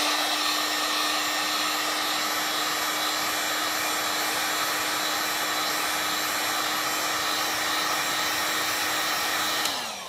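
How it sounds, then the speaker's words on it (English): A heat gun heating Worbla thermoplastic blows with a constant loud whooshing whine, running steadily without pause before cutting off at the end. "as you would use a hairdryer, this is not a hairdryer, remember, it's really, really hot."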